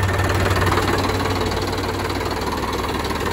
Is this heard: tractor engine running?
yes